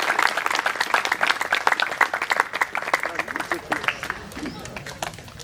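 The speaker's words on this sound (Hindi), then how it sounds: "जोरदार तालियां हो जाएं एक बार फिर से।" A large audience at an outdoor cultural festival claps loudly and energetically, a thick burst of applause that gradually thins and fades toward the end, with some crowd murmur underneath.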